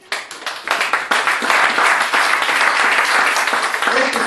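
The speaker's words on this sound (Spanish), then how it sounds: "Entonces, den un aplauso al Señor." Church congregation applauding the Lord at a sermon, a broad sustained wash of clapping hands that swells quickly and holds loud and steady, with faint voices mixed in.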